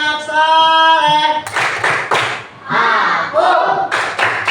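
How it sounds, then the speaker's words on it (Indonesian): Rhythmic group clapping in sharp, loud bursts during the 'tepuk anak soleh' chant at an Islamic education class, with voices chanting between and over the claps. "Tepuk anak soleh."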